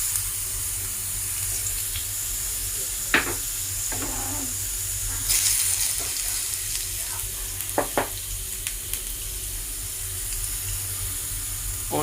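Garlic ginger paste sizzles in a hot pan with a constant crackling fry, broken by a few sharp clinks and scrapes of a utensil against the pan.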